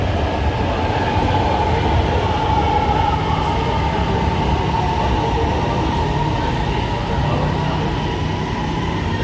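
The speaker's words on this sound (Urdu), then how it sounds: "یہ ہماری ٹرین آ گئی ہے جی." A train pulls into a station with a loud, continuous rumble and steady rolling rail noise throughout, close by, with no talking.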